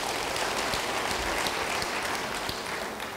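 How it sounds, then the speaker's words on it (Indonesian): Dense applause from a large audience at a sermon, a steady continuous wash of clapping that holds for several seconds without easing, with no voices over it. "Beri tepuk tangan bagi dia."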